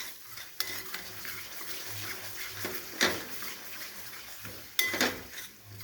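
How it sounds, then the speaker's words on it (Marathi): Spice paste of roasted masala ground with cumin and garlic frying in oil in a kadhai, a soft steady sizzle with clinks and scrapes of a stirring spoon against the pan, no voices. "मसाला चांगला फ्राय झालेला आहे"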